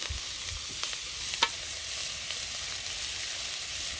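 Chopped onions fry in hot oil in a pan at a Bangladeshi village kitchen, a steady close sizzle with a few faint stirring clicks and no talk.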